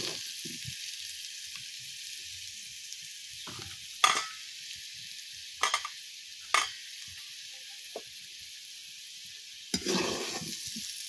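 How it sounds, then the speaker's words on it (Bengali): Potatoes fry in oil in a pan with a steady hiss, and a utensil occasionally scrapes or knocks against the pan. No one speaks. "দেখো আলুগুলো সব ভাজা ভাজা হয়ে গেছে।"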